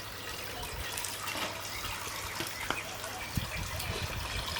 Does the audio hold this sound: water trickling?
yes